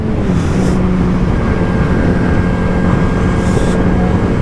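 A motorcycle engine drones loudly and steadily under heavy wind rush as the throttle is twisted, its pitch holding fairly constant while riding.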